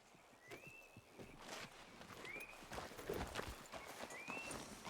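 In Red Dead Redemption 2, a horse's hooves clip-clop at a walking pace, fairly faint under outdoor ambience, with a few thin bird calls rising over the steady plodding.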